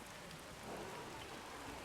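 Rain in the strategy game Age of the Ring falls as a dense, even hiss of drops on surfaces, steady and moderately loud throughout with no talk over it.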